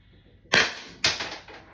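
A Byrna LE launcher fitted with a 10-round extension magazine fires through a chronograph, giving two sharp, close pops about half a second apart, each with a brief tail.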